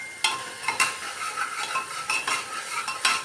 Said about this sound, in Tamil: மிளகாத்தூள் கொஞ்சம் போடணும் போட்டு நல்லா வதக்கணும்